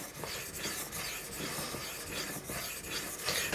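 A knife bevel, likely a Zilla folder, rubbed on a sharpening stone, giving a steady close rasping scrape in repeated back-and-forth strokes with no talk.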